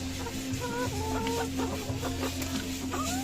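Egg-laying hens cluck nearby in a flock, with a steady electrical hum underneath and overlapping short clucks and brief rising calls scattered throughout.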